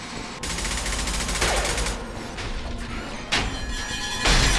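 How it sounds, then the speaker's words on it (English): Rapid assault rifle fire in the Mass Effect 2 video game, several dense bursts of automatic shots with crashing impacts, loud and close, without talk. "I'm going to try this assault rifle"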